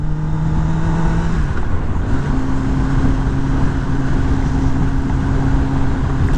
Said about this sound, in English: You hear that growl when you get up a couple RPMs.